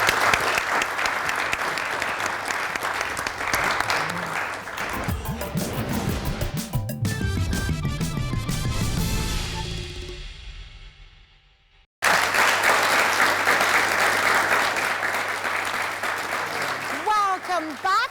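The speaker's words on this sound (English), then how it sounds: "She deserves a round of applause for that." Studio audience applause on a television talk show, loud sustained clapping that fills the room, dropping briefly to near silence before a second burst of applause resumes at full strength.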